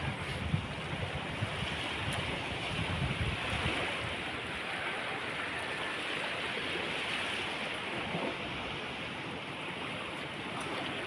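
Floodwater rushes steadily past outdoors, a broad, continuous roar mixed with wind buffeting the microphone, unbroken and fairly loud throughout.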